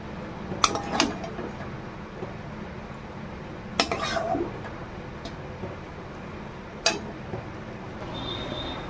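A pot and metal utensils clink as cooked mango-brinjal sour curry is served, with a few sharp scattered knocks over a quiet kitchen background.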